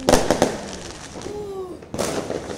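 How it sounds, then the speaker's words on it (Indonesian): Sharp firework bursts crackling on New Year's Eve 2023, a quick cluster of pops at the start, then a whistling rise and another burst, close and loud. "Kembang api."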